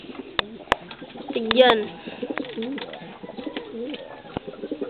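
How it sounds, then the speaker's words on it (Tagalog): A pet pigeon coos in soft, repeated low warbling phrases close by, mixed with sharp clicks and handling knocks while a person speaks briefly. "Aking kalapate."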